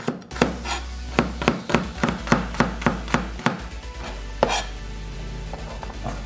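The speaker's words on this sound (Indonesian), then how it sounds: "Bawang merahnya diiris." A knife slices shallots on a cutting board, about a dozen crisp, evenly spaced chops, then a pause and one final cut, heard close over a low background hum.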